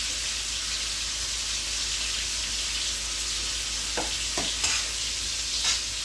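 Beef sears in a pan over medium-high heat for beef stroganoff, giving a constant, moderately loud sizzle with a few brief scrapes and clinks of stirring and no voices.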